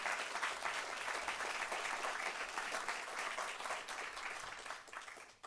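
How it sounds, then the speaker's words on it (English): An audience at the 2025 Asheboro local candidate forum gives the candidates a round of applause, even, moderately distant clapping lasting about five seconds and thinning out at the close. "let's give all of our candidates one more round of applause"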